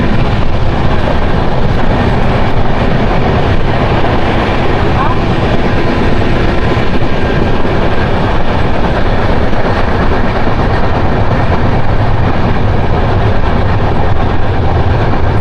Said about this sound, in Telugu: ఫుల్ క్లియరెన్స్లో పరిగెడుతుంది గరీబ్ రథ్ ఇప్పుడు